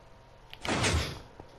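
A door opening in Minecraft, in a Tomb Raider Sanctuary of the Scion level, heard as one drawn-out sliding, scraping swell that rises, peaks and fades over about a second, alone and fairly clear.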